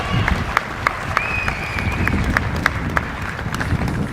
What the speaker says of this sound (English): you can clap for that because that was an awesome thing